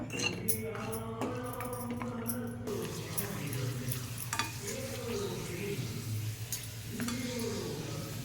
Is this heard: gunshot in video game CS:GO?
no